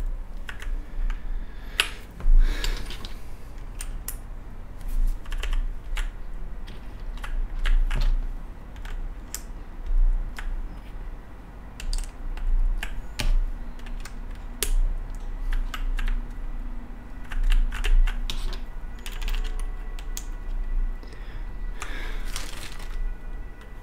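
Clicky keystrokes on a newly built KBD8X mechanical keyboard, typed in irregular bursts and steady runs, close and fairly loud, with no talk over them.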